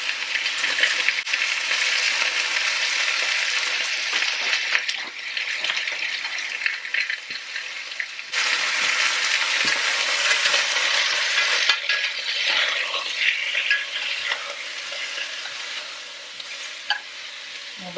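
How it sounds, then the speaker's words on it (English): Steady loud sizzling of stew ingredients searing in a hot pot, continuous frying hiss throughout with occasional faint stirring and utensil clinks, no talking. "We'll let that sear."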